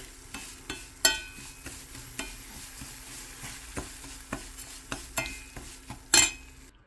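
Coarse Himalayan salt is stir-roasted in a pan, a soft, faint crackle under repeated sharp scrapes and taps of a utensil against the pan at a loose, regular rhythm, without speech.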